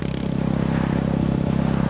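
A Honda GB350 single-cylinder motorcycle fitted with a Black Widow 200mm carbon-tip exhaust revs close by, a steady loud throbbing drone with rhythmic pulsing and no voices.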